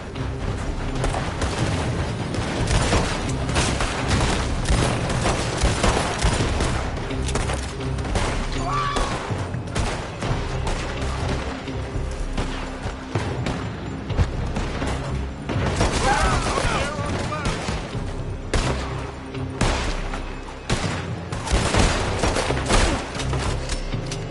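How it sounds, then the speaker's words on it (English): Gunfire in the Red Dead Redemption 2 video game: dense, continuous volleys of shots and booms going on without a break. Voices are heard under the shooting. "They're shooting from that building."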